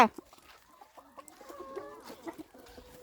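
Egg-laying chickens on a Thai farm give a string of close, irregular clucks and short calls, loud at the start and then quieter, with no talking.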